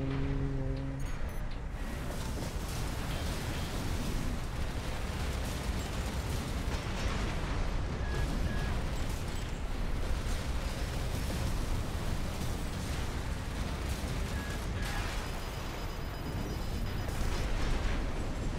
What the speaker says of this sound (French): C'est un canon, son truc.